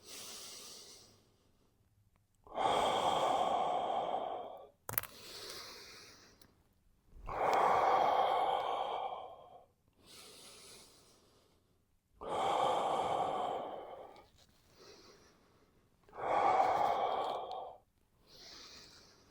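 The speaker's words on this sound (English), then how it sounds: "So I'm breathing out as I push up and pull down." Slow, deep breaths in and out during a neck and shoulder stretch, with about five long breaths spaced evenly a few seconds apart, close and fairly loud with quiet gaps between them.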